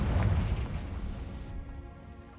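A Confringo spell explosion in Hogwarts Legacy, a heavy booming blast that rumbles loudly at first and then fades into a decaying tail.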